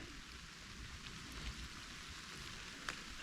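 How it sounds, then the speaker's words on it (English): Steady rain falls in the woods of southern Ohio public land during deer season, a soft, even hiss with scattered faint drop taps and no voices. "No film of them because it's raining."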